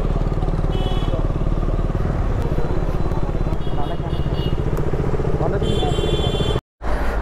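A motorcycle engine runs steadily as the bike moves through a traffic jam, a close, continuous mid-pitched drone with a brief cut near the end, while someone talks over it.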